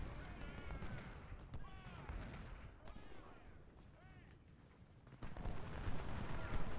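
Massed cannon and musket fire in the Ultimate General: Civil War Cold Harbor battle, a dense continuous rumble of guns and volleys that swells louder near the end, with shouting voices layered over the din.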